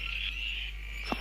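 Cartoon frogs give a short nasal croak followed by a quick chirp, heard alone against a low steady background hum.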